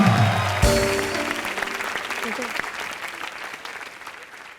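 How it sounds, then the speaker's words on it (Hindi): Studio audience at a Hindi comedy talk show applauds a guest and her puppy, broad clapping swelling after a brief musical sting, with voices and cheering mixed in, then slowly thinning out. "श्रद्धा के लिए और उसकी पप्पी के लिए जोरदार तालियां।"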